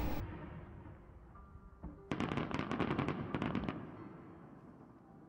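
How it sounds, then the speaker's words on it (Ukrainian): A rapid burst of crackling fireworks at the close of a festival pops and bangs in quick succession after a brief hum, then fades away. "Завершилось свято грандіозним феєрверком."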